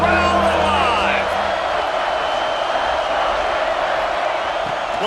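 A football stadium crowd at a Texas vs LSU game roars steadily on a red-zone third down, a dense, loud wall of cheering that holds through the whole stretch with a faint whistle-like tone near the start.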